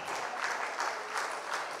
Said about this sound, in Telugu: కాబట్టి చాలామంది ఉన్నట్టుగా కొంచెం గట్టిగా చప్పట్లు కొట్టండి